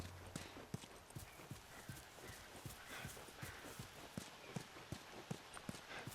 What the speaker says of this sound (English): Horse isn't jumping over that one.